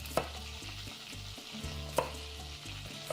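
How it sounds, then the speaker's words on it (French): Butter melting in a pan beside cut broccoli, with a soft steady sizzle, a few sharp clinks of utensils and a low recurring hum, close up and with no voices. "le beurre qui fond tranquillement"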